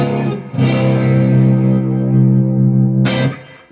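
An effected electric guitar plays a short bluesy phrase, a bent chord sustaining with heavy reverb and chorus before a sharp strum cuts in near the end.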